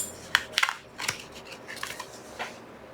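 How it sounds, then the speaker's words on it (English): A card is drawn from a shaman oracle deck, giving a few crisp close-up snaps and papery slides as the cards are handled and one is pulled free. "I'm going to pull a shaman card to clarify"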